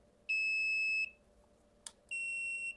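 Two long, piercing electronic beeps, each about a second, separated by a pause and a short click, loud and close in a quiet room.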